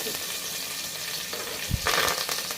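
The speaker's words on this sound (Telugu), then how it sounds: "పచ్చిమిర్చి వీటిని బాగా ఫ్రై చేసుకోవాలి" Cashews, mint, curry leaves and green chillies sizzle in hot oil in a pan for Hyderabadi bagara rice, a steady close frying hiss with a brief stirring clatter.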